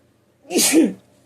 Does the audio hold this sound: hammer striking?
no